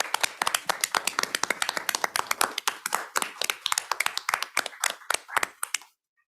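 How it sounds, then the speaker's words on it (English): Applause breaks out at a school district board of education meeting, a small group clapping briskly and unevenly, close and sharp for about six seconds before stopping abruptly. "So I'd like to give them a quick round of applause in honor of them."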